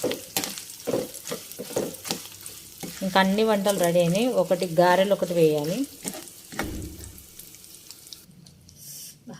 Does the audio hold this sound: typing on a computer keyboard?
no